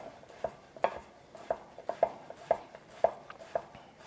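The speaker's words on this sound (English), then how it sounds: "we're just going to cut those into half moons" A knife chops zucchini into half moons on a cutting board for a chicken and vegetable stir-fry, giving about eight crisp, evenly spaced taps at a steady rhythm, close and clear with no talk.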